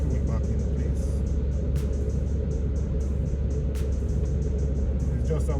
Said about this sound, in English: I'm driving to work now